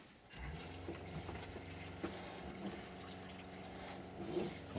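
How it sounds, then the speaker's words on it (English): RV water pump running while pushing water through the lines into the water heater, a steady low mechanical hum with a faint hiss and trickle of flowing water, close and continuous. "as soon as I turn that valve, the water pump kicked back on, and we're actually pumping the water into the water heater"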